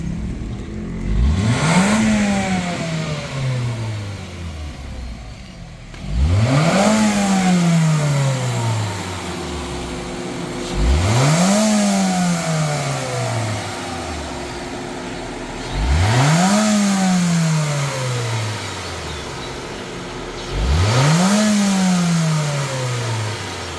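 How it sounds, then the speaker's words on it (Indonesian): Honda Freed engine after carbon cleaning with a chemical treatment, revved repeatedly: five rising bursts about five seconds apart, each climbing then winding down to a smooth idle, close and loud. "kita bisa dengar suara mesinnya jadi super halus"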